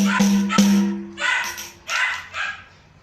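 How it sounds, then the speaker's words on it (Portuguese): A dog barks a few sharp times at close range during a capoeira music live stream, loud, then quieter yips and whimpers trail off over the next seconds with no talking. "eu me preocupo com o cachorro querendo participar da live"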